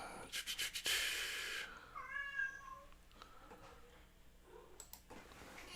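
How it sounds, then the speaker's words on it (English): A cat meowing indoors during a live sound-design stream, several drawn-out, fairly loud meows in the middle, after a burst of clicks and noise at the start, with quiet background hum behind them. "He likes to meow a lot."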